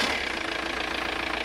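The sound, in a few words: Audi 80 1.9 TDI diesel engine starting and idling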